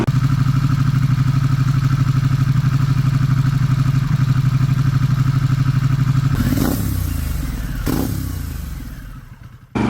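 Harley-Davidson motorcycle ridden on mountain roads, its engine throbbing loud and steady, then two quick revving surges with clattering as the rumble tails off and fades near the end.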